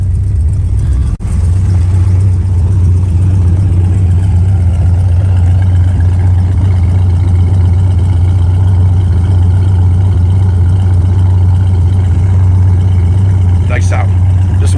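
A 1970 Chevy Chevelle SS 454 idles steadily at a car show, a loud, deep, even rumble that holds throughout, with a brief dip near the start and a few faint higher clicks toward the end.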